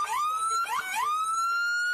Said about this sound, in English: Someone turn off the siren.